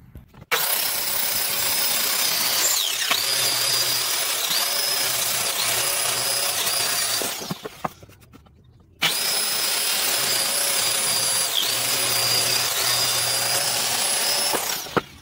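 A power saw whines loudly through a scrap wooden board in two long cuts, separated by a brief pause, with a steady high-pitched motor tone.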